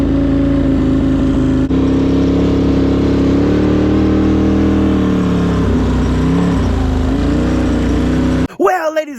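A Can-Am Outlander 840 ATV engine runs loud and close, droning steadily then rising and falling in pitch as it revs, before cutting off abruptly near the end.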